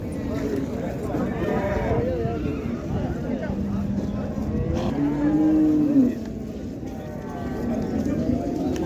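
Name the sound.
cows mooing at livestock market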